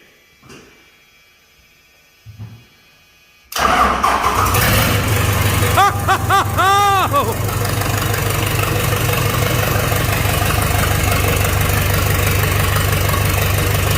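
A 4B Cummins diesel swapped into a 6000 fires up for the first time after a quiet pause, catching loudly and settling into a steady, rattly diesel idle that continues to the end, with brief voices near the start.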